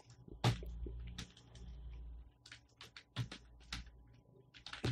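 Keys tapped on a computer keyboard during a Hindi SEO tutorial on image sharing, a few separated clicks and short bursts of typing, close and moderately quiet, with no talk over them.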